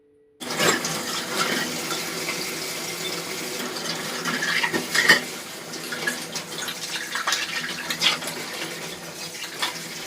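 Dishes are washed under a running kitchen tap: a steady stream of water splashes continuously, broken by occasional clinks and knocks of dishes, close to the microphone with no talking.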